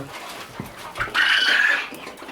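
Hens being shifted between pens give a single sharp, close squawking cluck midway, set against quiet shuffling and scattered soft bumps.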